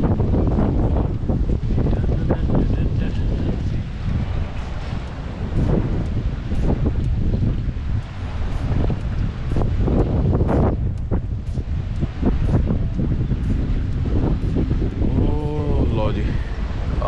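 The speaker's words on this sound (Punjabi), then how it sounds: "ਆਹ ਸ਼ਿਪ ਆ ਗਿਆ ਜੀ," A ship pulls in at a waterfront in the Netherlands under steady, loud wind buffeting the microphone, with low engine and water rumble beneath and a brief tonal hoot near the end.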